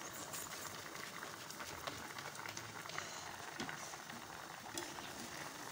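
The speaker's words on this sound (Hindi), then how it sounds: "बॉयल आना स्टार्ट हो गया है। अब हम इसके अंदर राइस डाल देंगे।" A pot of water for matar pulao rice boils at a steady rolling bubble, with faint clinks and crackles throughout.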